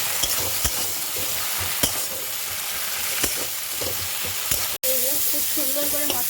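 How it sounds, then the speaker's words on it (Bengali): Ground spice paste for a Bengali chela fish oil-and-chilli curry sautéing in a pan after onion, garlic and tomato, a steady close sizzle broken by repeated spatula scrapes and one brief gap near the end, with no talking. "এইগুলো খুব সুন্দর করে মশলাটা কষানো হচ্ছে"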